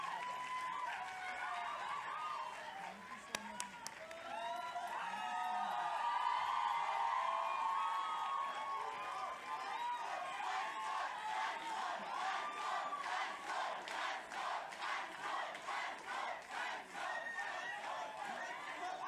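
A large audience gives a singer a standing ovation at a live conversation event, with sustained crowd cheering, shouts and whoops swelling into dense rhythmic clapping that runs on steadily and fills the hall.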